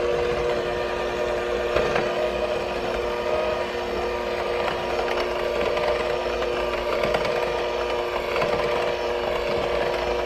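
An electric mixer on low speed works flour into butter cookie dough, giving a steady motor drone with tonal whine and scraping clatter, even and close throughout.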